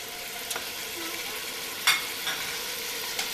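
Tomatoes and spices frying for chicken salan, a steady close sizzle with a few light stirring clinks and scrapes.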